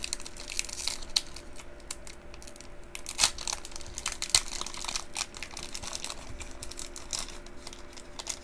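A Pokemon Vivid Voltage booster pack torn open by hand, with crinkling foil, sharp tearing bursts and rustling handling close up, irregular and continuous with no talking.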